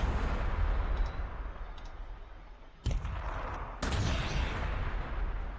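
Krak missiles launching in the Warhammer 40,000: Sanctus Reach strategy game, two sharp, loud blasts roughly a second apart over a steady rumbling battlefield background.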